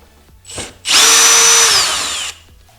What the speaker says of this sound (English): I'll be using my drill in here